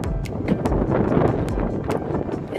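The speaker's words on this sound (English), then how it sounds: "It's so windy." Strong outdoor wind buffets the microphone near a store, a loud continuous rumbling roar with gusty swells and a few faint clicks throughout.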